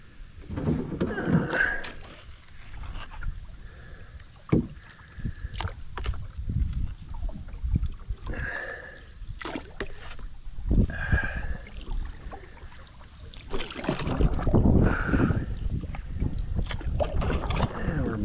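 Kayak or canoe paddling on the Menominee River in Upper Michigan, with repeated paddle splashes and water sloshing near the boat, wind buffeting the microphone, and a voice speaking now and then.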